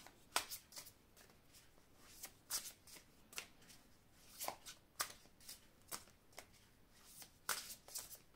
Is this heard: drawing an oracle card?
yes